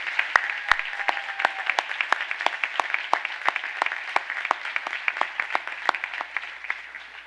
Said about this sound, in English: Please join me again giving a round of applause for all our honorees and the student speakers